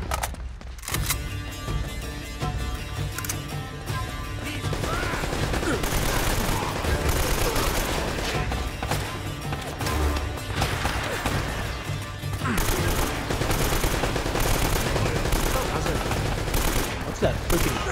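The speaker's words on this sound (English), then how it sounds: "Fast sounding gun." A fast-firing gun in Uncharted: Drake's Fortune Remastered lets off sustained rapid bursts with crashing impacts mixed in. The fire is loud and dense, and a voice talks now and then over it.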